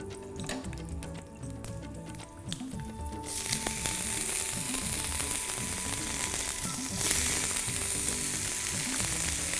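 Green chillies and paneer fry in hot oil with a crackling sizzle that swells suddenly partway through and keeps spattering, over faint rhythmic clatter in the background.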